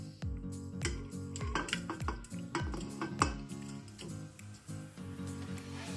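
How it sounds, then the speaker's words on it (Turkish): Several clunks and metallic clanks ring out as cubed meat is added to a pressure cooker pot, a cluster of sharp hits with resonant tails, then quieter settling. "kuşbaşı etimizi düdüklü tencereme ilave ediyorum"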